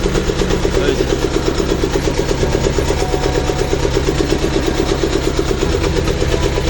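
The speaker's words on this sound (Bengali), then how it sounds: "ইঞ্জিনের আওয়াজ" A boat's engine, heard from inside its engine room, gives a loud, steady, rhythmic drone that runs close and unbroken from start to finish.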